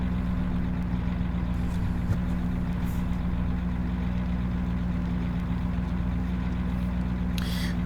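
A Claas tractor engine in the video game Farming Simulator 17, idling as a steady, low diesel drone with a constant hum, running alone with a faint hiss near the end.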